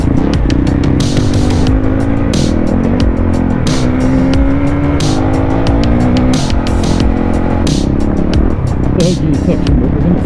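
A Honda CRF dual-sport motorcycle accelerates hard on a trail, its engine rising and falling loudly and close up, with rapid clicks and knocks over the continuous engine roar.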